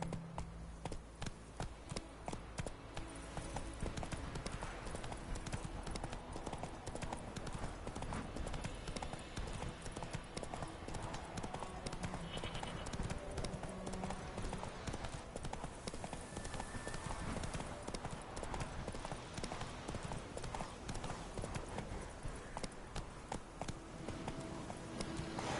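Roach the horse gallops in The Witcher III, a steady close clip-clop of hooves running continuously over a busy ambient game soundscape with no speech.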